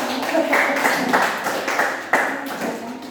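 Students in a classroom give a short round of applause, a steady patter of many hands clapping close by for a few seconds, with faint voices underneath.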